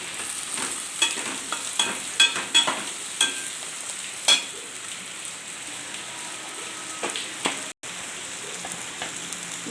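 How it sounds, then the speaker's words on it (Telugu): Ivy gourd (dondakaya) stir-frying in oil crackles with a steady close sizzle, broken by repeated sharp clicks and scrapes of a spatula stirring in the pan. "ఆయిల్ అయితే వేసాను, ఫ్రై చేస్తున్నాను ఫ్రెండ్స్, కలిపెడుతున్నాను ఫ్రెండ్స్"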